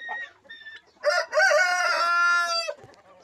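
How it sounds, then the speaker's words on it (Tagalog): Turkey chicks and chickens on a heritage chicken farm, a close, loud fowl call rising into a sustained crow-like cry after a few short chirps, then falling quiet. "Mga sisiw ng turkey."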